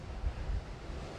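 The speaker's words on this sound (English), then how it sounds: "And you can probably hear the ocean in the background." Ocean surf on an island shore in the Azores in January, heard as a steady low wash and roar mixed with wind buffeting the microphone, continuous and without speech.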